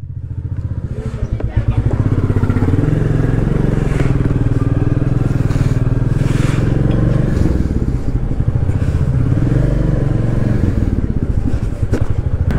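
A motorcycle sets off on a long ride from Kolkata toward Siliguri. Its engine rumbles loud and close, swelling after a brief start into a steady drone with rattling clatter, while a voice talks over it.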